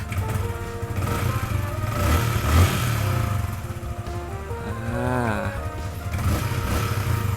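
A Yamaha Exciter 155 motorcycle (2022) idling steadily nearby with a rumbling exhaust, briefly revving before settling back; a voice speaks faintly underneath.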